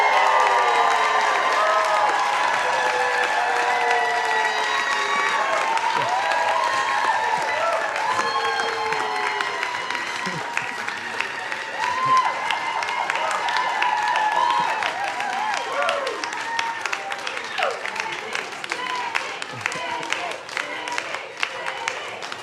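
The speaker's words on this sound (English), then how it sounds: "this applause is well-deserved" A large audience at a leadership awards celebration claps and cheers for an award winner, a sustained wave of dense applause with whoops and scattered shouts, loud and close, running for over twenty seconds and slowly thinning toward the end.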